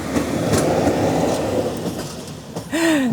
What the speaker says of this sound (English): This is the train we was waiting for.